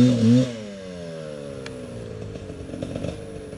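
A motorcycle engine on a rough road trip from Umiray, Dingalan to General Nakar revs loudly up close, then drops to a steady, buzzing idle that rises again toward the end.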